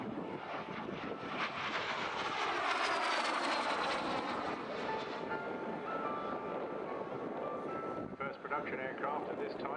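An Avro Anson aircraft flies past at an air display, its piston engines roaring loud and steady across the whole stretch with wind buffeting, swelling then easing slightly near the end.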